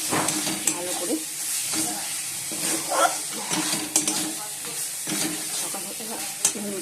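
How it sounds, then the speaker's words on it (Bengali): Flour sautéed in a pan for ghugni: constant close frying sizzle with repeated rhythmic scraping of a spatula against the pan, fairly loud throughout. "ময়দাটা কষিয়ে নিয়েছি ভালো করে"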